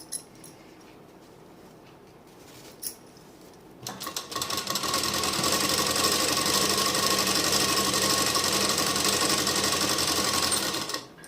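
A sewing machine stitches a suit lining half an inch in from the edge, starting after a few quiet seconds and then running in one loud, continuous, fast whir to the end.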